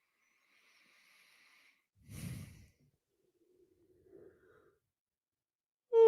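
A man yawns with a long, breathy exhale, followed by a quieter sigh-like breath, close and soft in a quiet studio.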